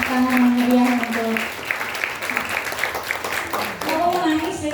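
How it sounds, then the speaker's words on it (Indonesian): Applause and clapping from an audience at a talk show on classical Yogyakarta-style dance, a steady wash of hands lasting a few seconds, mixed with voices. "Tepuk tangan yang meriah untuk"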